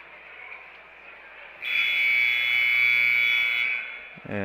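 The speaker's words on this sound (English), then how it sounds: "And there's the buzzer" A buzzer at a high school varsity basketball game gives one long, steady electronic blare lasting about two seconds. The gym's room noise sits under it, and the buzzer stops abruptly before the crowd sound returns.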